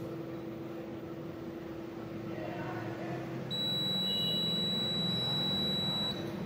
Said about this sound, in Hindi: बीप की आवाज आती है तो ट्यूब को हटा लिया जाता है।